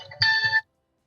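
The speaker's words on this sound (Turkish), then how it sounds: "Özür dilerim telefon çalıyor." A mobile phone ringtone sounds during an eFootball ranked-match session: one short, bright electronic tonal burst lasting under half a second, clear and fairly loud, then cutting off abruptly into silence.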